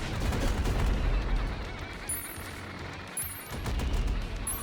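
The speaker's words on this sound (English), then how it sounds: "Oh, fireworks. Interesting. Fireworks." Fireworks bursting in Terraria with the Calamity Infernum mod, a dense run of sharp crackling pops and booms that thins in the middle, then swells again toward the end, loud and with no talk.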